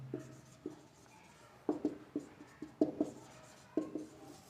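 Marker or chalk strokes on a board during a physics lecture on impulse, heard as scattered short scratchy taps in clusters, close and fairly quiet, with no talking.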